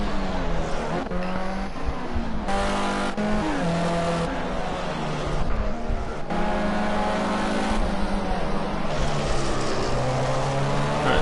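Open-wheel race cars in a Formula C sim racing league qualifying session roar continuously, engines revving and shifting through gears with loud, dense, overlapping engine tones and occasional tire noise throughout.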